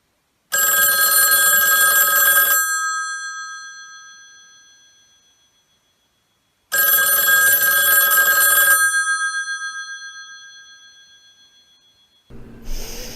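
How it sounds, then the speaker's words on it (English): A loud mechanical bell on an old rotary telephone rings in two long bursts, each about two seconds, with the ringing fading between them; a brief rustle follows at the end. "he realizes that he woke up because the phone is ringing."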